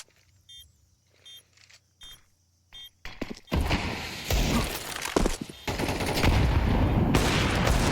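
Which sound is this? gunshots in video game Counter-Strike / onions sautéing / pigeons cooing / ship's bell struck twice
gunshots in video game Counter-Strike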